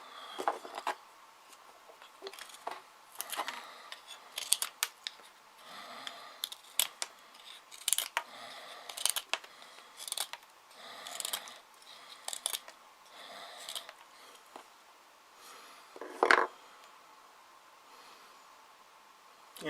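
A CRKT Pilar liner-lock folding knife slices through material fresh out of the box, making a string of crisp cutting snips and rustles up close, with one louder snap near the end.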